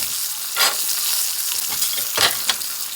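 Chicken pieces frying in oil and butter on a grill pan, a steady broadband sizzle with a few louder bursts as pieces are moved or stirred, close up and with no talking.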